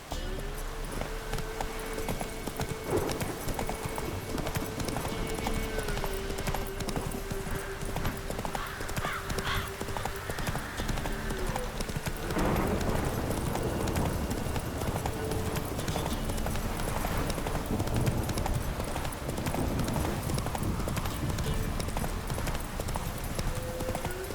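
Horse hooves clip-clop in a fast, continuous galloping rhythm on open ground in The Witcher 3, loud and close over a dense bed of game music and ambience, with occasional faint speech.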